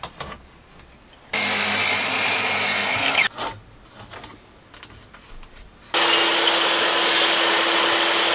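Power saw cutting timber for the door of a home-built bike shed, two loud sustained bursts of roughly two and five seconds separated by quieter handling noise.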